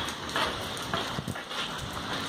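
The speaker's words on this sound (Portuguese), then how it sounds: "E a chuva parou. Ah, não, parou ainda não." Steady rain pouring down during a thunderstorm around a house, a continuous close hiss of drops with faint patters on surfaces and no clear voices.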